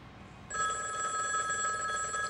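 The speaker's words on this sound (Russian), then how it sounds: "Ой, старый телефон" An old telephone in the James Bond 007 Blood Stone video game starts ringing abruptly after a quiet moment, a continuous loud metallic bell trill that carries on to the end.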